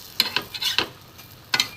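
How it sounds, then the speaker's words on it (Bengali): Brinjal slices frying in a small amount of oil give a soft background sizzle, broken by a few brief scraping and stirring clatters from a utensil in the pan. "এইভাবে বেগুন ভাজা করবেন বন্ধুরা, কম হালকা তেলে।"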